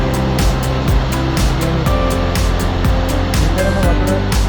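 Water rushes steadily at the Galapitayaya Estate waterfall, a loud, continuous close-up roar that stays even throughout with no speech over it.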